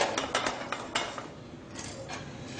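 A non-stick pan of hot olive oil clatters and clinks as it is handled on the stove. The metallic knocks are close and clear over a soft background hiss.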